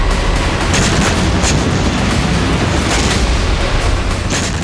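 Russian artillery fires in the war in Ukraine. The sound is a loud, continuous barrage of booms and cracks with no pause, heavy and dense throughout.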